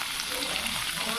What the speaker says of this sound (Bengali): কিন্তু লেজা ভেজে নেব